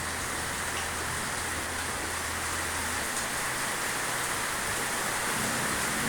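Steady, heavy rain pours down in a constant dense hiss, loud and unbroken throughout, with a faint low rumble underneath.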